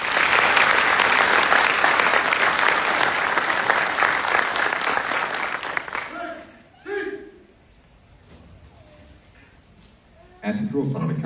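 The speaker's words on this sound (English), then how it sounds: "Please join me in a round of applause for the winning squad of the drill and ceremony competition" Loud, sustained applause from a large crowd at a military graduation ceremony honors the winning drill and ceremony squad, fading after about six seconds into quieter room noise, then a brief burst of sound at the end.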